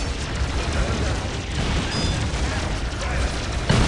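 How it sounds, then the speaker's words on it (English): Grenade explosions in the strategy game Dawn of War Soulstorm, with Steel Legion fighting Orks, a dense continuous rumble of blasts and battle noise filling the mix at close range. "I also get grenades, which I should use right now against these knobs"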